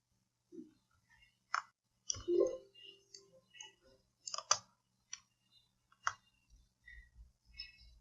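Computer mouse clicks while working with the pen tool in Photoshop, a series of sharp, close, isolated clicks spaced irregularly across the stretch, with no voices.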